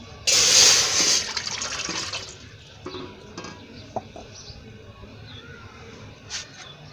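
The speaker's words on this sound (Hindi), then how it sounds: "सबसे पहले हम डालेंगे 2 कप पानी" Two cups of water are poured into a pot for homemade Rooh Afza sharbat, a loud gushing splash of about a second, followed by a few soft clinks and quiet handling sounds.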